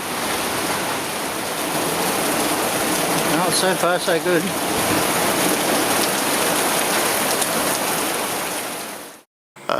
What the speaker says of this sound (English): Nice bit of rain.